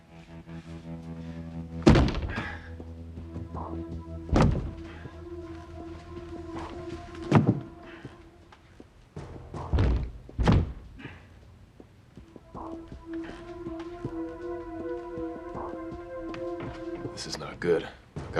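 A locked door is forced open with repeated heavy thuds spaced several seconds apart, loud and close, while people talk between the blows and low musical tones run underneath.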